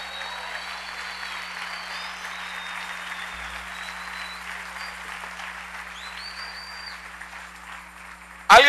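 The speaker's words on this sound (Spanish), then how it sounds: "Dale un aplauso al Rey bendito." Congregation applauding during a church service, a broad steady wash of clapping that sounds somewhat distant and hums faintly underneath, ending with a sudden loud burst right at the close.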